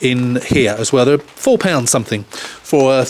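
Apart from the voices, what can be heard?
No distinct noise like a dog, phone or traffic.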